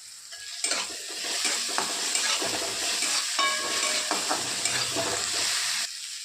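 Garlic, cumin and coriander sizzle in hot oil in a pan while a spoon stirs them, scraping and clinking against the metal in an irregular rhythm, close and fairly loud with no talking.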